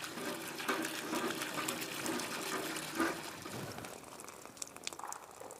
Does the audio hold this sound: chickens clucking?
no